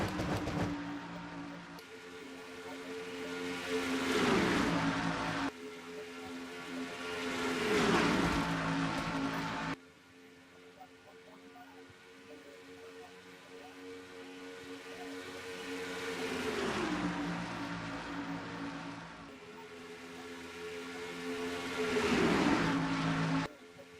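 Stock race cars roaring around an oval in the NNSCRA Castrol GTX Cup Mello Yello 500 sim race, engines droning loudly with repeated pitch sweeps as cars pass close by, alone without talk.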